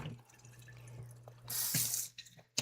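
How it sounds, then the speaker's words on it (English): Tap water runs and splashes as crab meat is rinsed under a kitchen faucet, a quiet dripping trickle swelling into a brief hissing gush before cutting off with a few clunks. "I'm going to rinse off this crab meat."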